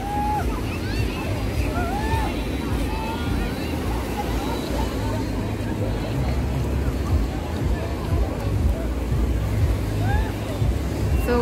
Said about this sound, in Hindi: There are so many people, so many tourists here right now.